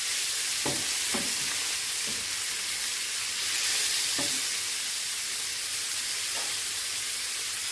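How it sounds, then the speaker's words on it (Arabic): Chopped onion sizzling steadily in a frying pan as it is stirred, with a few soft scrapes and clicks of the spoon against the pan over a continuous close hiss. "هقلب برضو"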